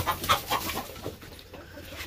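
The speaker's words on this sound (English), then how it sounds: "Then got some hens behind me." Hens cluck on a farm in a series of short, close calls with a few louder squawks, fading into softer background fowl noise.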